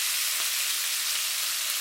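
Garlic sizzling steadily in hot oil in a pan, for a shrimp dish with ginger and green onion; a continuous, even frying hiss with no breaks and no voices.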